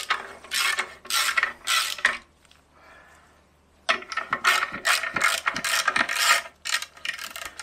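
A ratchet loosens the clutch bolts on a Jaguar XJC with a manual transmission, clicking in quick, loud bursts. A brief quiet pause comes before another run of close, sharp ratcheting.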